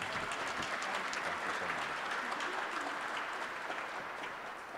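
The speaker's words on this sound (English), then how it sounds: "Let's give her a round of applause, please" An audience applauds for the lieutenant governor at a Kentucky Teacher of the Year event, steady sustained clapping from a crowd that fills the room and holds even throughout.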